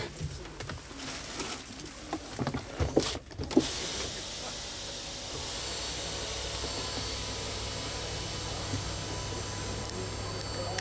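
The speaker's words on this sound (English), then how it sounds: "now I opened the windows so you can feel the noise insulation inside" A 2019 Scania R 450 tractor truck's electric window motor hums steadily for several seconds after a few clunks and rattles, a constant whirring drone close by.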